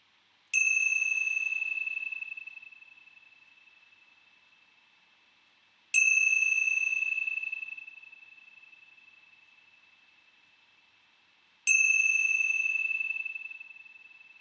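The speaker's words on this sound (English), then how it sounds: "with the ringing of the bells of hope." Three clear bell strikes ring out at even intervals about six seconds apart, each a bright metallic ding that decays slowly into near silence, heard alone during a calm meditation.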